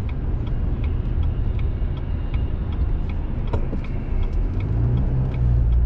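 A car cruising along Highway 101 through Seaside, Oregon, with a steady, dense road and engine rumble that holds without a break, plus faint ticking sounds scattered on top.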